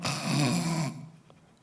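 A voice imitates snoring in front of a comedy storytelling audience, one drawn-out rumbling snore of under a second, fairly close, trailing into quiet.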